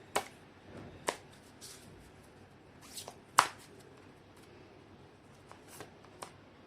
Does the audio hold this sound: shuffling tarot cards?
yes